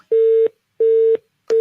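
Telephone busy signal: three loud, steady tone bursts, each about a third of a second long, separated by short silent gaps in a regular rhythm.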